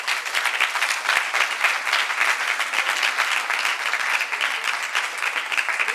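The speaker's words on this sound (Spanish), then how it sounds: "Brindemos un fuerte aplauso, por favor, a la doctora Benjet." Audience at a psychology research colloquium applauding a doctor as she is introduced, a sustained, even round of clapping from a room full of people, continuous for several seconds.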